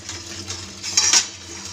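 Dishes, pots and utensils clatter during washing up in a home kitchen, with a few quick metallic clinks rising near the end over quiet background.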